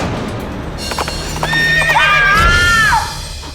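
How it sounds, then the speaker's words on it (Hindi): A horse neighs in a long, wavering whinny over steady clip-clopping hooves, with loud outdoor background noise throughout and the call fading near the end. "गुंजा का घोड़ा, उसका घोड़ा कहाँ देखा था आपने उस घोड़े को?"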